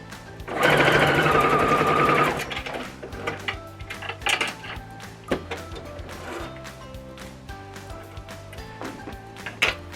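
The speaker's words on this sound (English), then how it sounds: "I'm going to get started on this sewing" A sewing machine runs a loud fast burst stitching fabric pieces together for a patchwork cushion, then falls to quieter clicks, taps and handling clatter.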